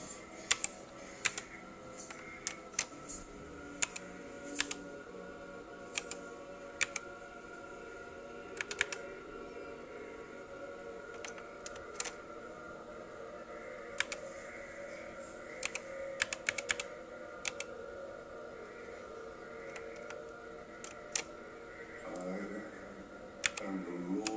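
Steady typing on a vintage MS-DOS PC keyboard, a run of close, distinct key clicks in uneven bursts over a constant low hum, with no talking.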